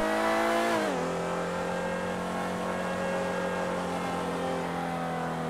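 A car engine in a GTA Online race holds a steady, high droning note that drops in pitch as the car shifts or slows, then stays loud and constant with no talking.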